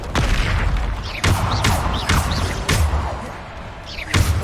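Repeated Bombarda spell explosions from Hogwarts Legacy go off in quick succession, about six heavy booming thuds with crackling tails, loud and close.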